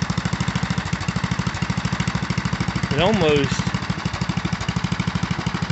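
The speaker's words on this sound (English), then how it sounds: "The ST16 with an 8-horse Briggs is up and running and working like a champ." A 1974 Sears ST/16 garden tractor with an 8 hp Briggs and Stratton engine idling nearby, producing a steady, rapid thumping chug. Someone speaks briefly over it partway through.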